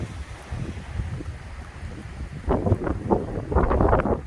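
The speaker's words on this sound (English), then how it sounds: "Oh man, the wind is just picking up from there" Strong gusty wind during a thunderstorm buffets the microphone with a low roaring rumble that swells louder toward the end, no voices.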